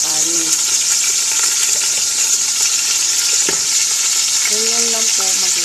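Meat hits a hot pan and fries loudly for a Filipino okra stew, a close, continuous sizzle with scattered stirring clicks and a brief faint voice underneath.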